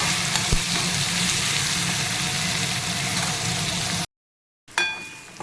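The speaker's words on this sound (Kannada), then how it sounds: "ಅರಿಶಿನ ಪುಡಿ ಹಾಕಿ ಒಂದು ಸ್ವಲ್ಪ ಕಂದು ಬಣ್ಣ ಬರೋ ತನಕ ಇದನ್ನ ಸ್ವಲ್ಪ ಮೀಡಿಯಮ್ ಫ್ಲೇಮಲ್ಲಿ ಫ್ರೈ ಮಾಡ್ಕೊಳ್ಳೋಣ" Onion with ginger, garlic and turmeric powder fries over a medium flame, giving a loud, steady sizzle that runs close up, then cuts to silence briefly before a short burst of stirring and sizzling resumes.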